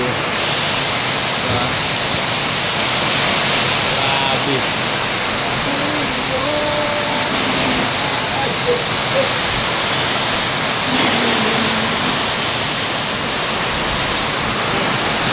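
Heavy rain pours down steadily in a storm in Daet, a dense, loud, unbroken hiss filling the whole stretch, with voices talking faintly underneath.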